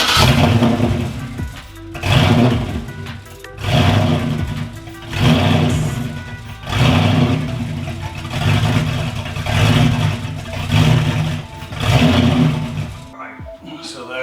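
A Porsche Cayman fitted with a V8 engine revs hard in repeated loud bursts, roughly every two seconds, the deep roar swelling and falling back between blips, close by, with voices faintly under it.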